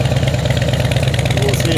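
A 2007 Harley-Davidson Electra Glide Ultra Classic motorcycle idles steadily outdoors, its low engine rumble pulsing evenly and close throughout, with someone talking over it.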